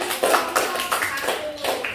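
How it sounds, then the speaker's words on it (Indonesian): A few people clap hands at an event, a scattered series of sharp claps at close range with voices mixed in. "Tepuk tangan."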